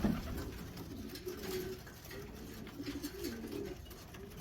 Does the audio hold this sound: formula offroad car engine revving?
no